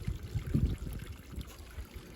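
Water splashes and trickles over a newly built backyard waterfall, close and gurgling with uneven bubbling pulses, no voices.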